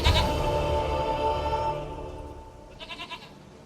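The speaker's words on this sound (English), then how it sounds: "Goat of mine, dearest," A goat bleats in The Witcher 3, a close, loud wavering cry at the start, then a shorter quieter bleat near the end, with no speech.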